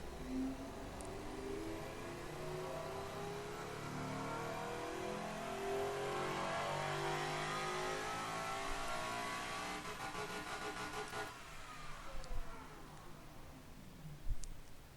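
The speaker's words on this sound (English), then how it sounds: "let's listen to this turbo V12" A turbocharged V12 in a 1990s supercar, simulated in the game Automation, revs up and holds high with a rising, smooth engine roar. It then falls away, leaving a few sharp pops and blips near the end.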